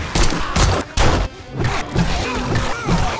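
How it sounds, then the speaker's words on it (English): Rapid gunfire from a machine gun in the survival video game 7 Days to Die, fired after a zombie horde, sounds as dense thudding bursts that blur into a continuous clattering roar. "Get the machine gun out."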